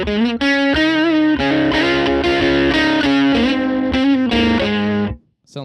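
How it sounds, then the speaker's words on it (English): Electric guitar played through a Fender Tone Master Pro modeling a '59 Bassman amp, loud sustained chords and notes with warm drive, changing every second or so before cutting off abruptly. "Here's a little Bassman."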